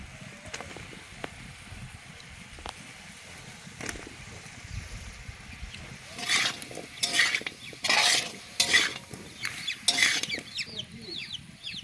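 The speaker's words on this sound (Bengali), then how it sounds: "এরপর ডুমু ডুমু করে কেটে রাখা আলুগুলো দিয়ে দিচ্ছি" Diced potatoes added and stirred into a country-chicken masala, with quiet scraping at first, then louder bursts of spoon and pot clatter, while hens cluck nearby.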